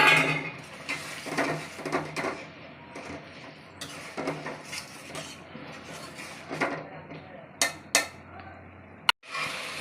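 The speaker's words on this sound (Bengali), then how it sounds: "মাছগুলি একটু কষামো।" Rohu fish pieces fried with spices in a pan, irregular metallic scrapes and clatters of stirring over a faint sizzle, close by, ending in an abrupt knock.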